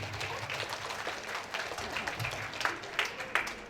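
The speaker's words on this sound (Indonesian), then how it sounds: "Tepuk tangannya." A gathering at an Islamic boarding school gives a round of applause, a moderately faint, steady patter of many hands clapping with scattered sharper claps and no speech on top.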